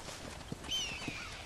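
A horse in the Red Dead Redemption video game, its hooves clip-clopping in a few soft, spaced steps at a moderate distance, with a brief whinny-like tone above them and no talk.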